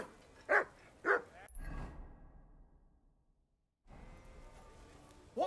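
Dog barks twice in the medieval game Kingdom Come: Deliverance, sharp and fairly close, followed by a whoosh, near silence, then ambient noise and a third short bark.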